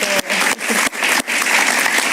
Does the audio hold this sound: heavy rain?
no